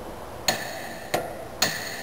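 A large hammer drives a pipe against a steel plate to knock a guard loose, giving three sharp metallic strikes with ringing overtones, spaced about half a second apart, with no voices.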